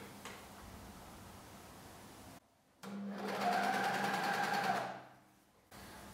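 A sewing machine stitches a fabric seam for boxer briefs, running steadily and close with a whirring rattle for a couple of seconds, stopping and restarting between quiet pauses.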